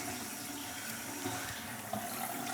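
Water drains steadily from a bathroom sink after the plug is pulled, a continuous rushing gurgle at low level with no speech.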